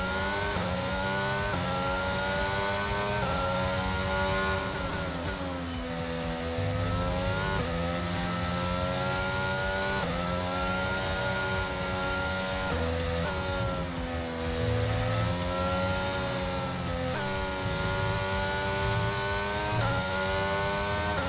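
An F1 22 race car engine in the video game screams loud and steady for the whole stretch, pitch sweeping up and down through gear changes and throttle lifts, with no talk over it.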